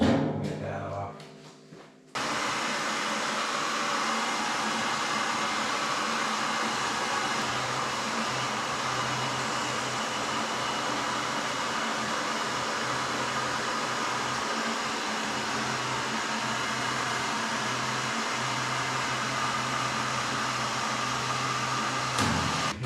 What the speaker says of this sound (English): I'm going to grab a heat gun so we'll get that off.